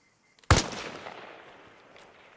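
A single sharp, loud sniper rifle shot firing regular special ball ammunition at 100 meters in Arma Reforger, with a long decaying echo that trails off over a couple of seconds and no talk.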